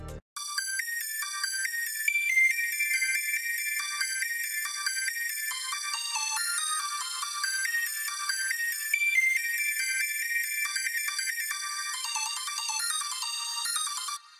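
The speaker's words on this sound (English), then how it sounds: "So next we got a different lead from, I think, the same one shot kit from Some Boys Kit." Complex high-pitched lead melody from the Some Boys one shot kit, bright bell-like synth notes in a busy, continuous repeating pattern with no low end, steady and alone.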